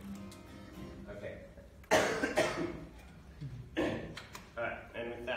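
A person coughs several times in short separate bursts, close and fairly loud, with quiet pauses and some throat sounds between them.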